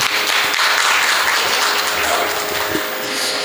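Temple audience at a devotional music program in Shri Gopal Mandir breaks into loud, sustained applause, a thick continuous wash of many hands clapping at close range with no talking.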